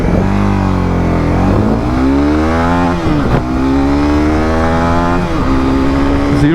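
A Honda CB300R or TVS Apache RTR 310 motorcycle accelerating hard in a ride test, loud and close, its engine note climbing repeatedly through the gears with short dips at each shift and no talk.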